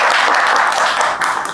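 A group of students gives a brief burst of dense applause at a repair training course, loud and close for about a second and a half.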